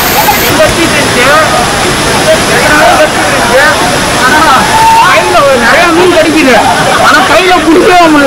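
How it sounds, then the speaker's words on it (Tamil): Dense crowd chatter fills the busy Hogenakkal falls area, many overlapping voices close and loud over a constant roar of falling water. "ஏன்னா இங்கே செம்ம க்ரௌடு"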